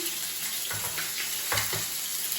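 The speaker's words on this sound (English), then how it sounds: "I love that sizzle." Steady sizzling and crackling of chicken frying in a hot pan at a campsite, with a couple of brief surges as something is added or moved, close and continuous.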